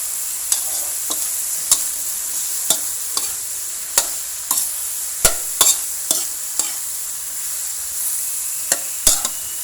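Lotus stems stir-fry in a pan, a continuous close sizzle punctuated by regular sharp scrapes and taps of a spatula tossing them.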